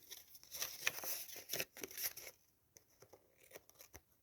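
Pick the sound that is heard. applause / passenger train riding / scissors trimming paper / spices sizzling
scissors trimming paper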